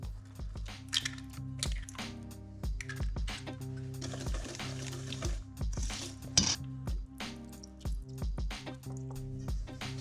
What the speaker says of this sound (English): Stir just until smooth.